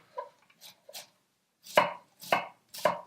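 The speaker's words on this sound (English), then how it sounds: "use a good old-fashioned knife. And we're just going to shred it up." A knife shreds red cabbage on a board, giving two soft cuts and then three sharper, louder chops in an uneven rhythm, close up with quiet gaps between them.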